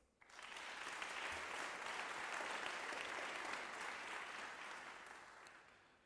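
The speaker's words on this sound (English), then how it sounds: "a round of applause for the Principal and Vice-Chancellor" A ceremony audience at an opening event for an international voice competition breaks into applause after a brief quiet moment, swelling into a broad, dense wash of many hands, sustained and even, then easing slightly near the end.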